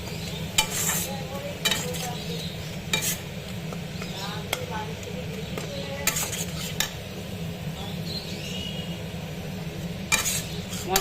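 Spices for a Bengali bhetki fish bone curry fry and get stirred in a pan, with a steady sizzle under periodic scraping and clinking of a utensil against the pan.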